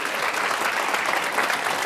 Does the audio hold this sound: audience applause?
yes